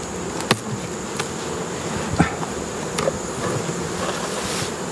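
Steady buzzing of many honeybees around an open double-deep hive fills the background, a continuous insect hum with a few faint clicks and knocks, no voices.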